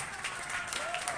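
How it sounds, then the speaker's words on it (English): Audience applause for squash player Todd Harrity after a professional squash match: a brief burst of dense, even clapping from a crowd, with a faint voice underneath. "Big hand of applause for Todd Harrity."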